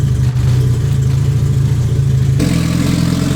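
A 700hp Honda Civic EK engine runs on pump gas, a loud close steady rumble with a slight roughness that shifts in tone partway through and keeps going without any voices.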